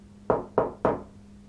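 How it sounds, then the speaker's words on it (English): Three evenly spaced knocks on a wall inside a house during a paranormal investigation, close and fairly loud, each a dull sharp rap that fades quickly, with no voices. "I'm gonna knock."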